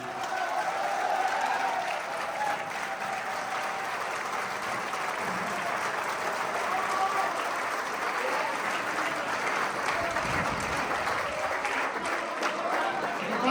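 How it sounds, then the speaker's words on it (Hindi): Sustained applause from a live audience at a Hindi poetry recital, a dense, steady wash of clapping that holds loud and even for the whole stretch with no voices standing out. "जोरदार तालियां बजाइए।"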